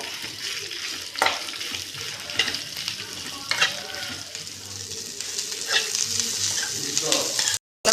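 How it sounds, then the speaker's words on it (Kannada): Three onions fry in a pan for a goat head and trotter sambar, a dense continuous sizzle close up with scraping stirring strokes and occasional clinks throughout. "ಮೂರು ಈರುಳ್ಳಿ ಹಾಕ್ತಾ ಇದ್ದೀನಿ ಇದೆಲ್ಲ ಚೆನ್ನಾಗಿ ಫ್ರೈ ಮಾಡ್ಕೋಬೇಕು"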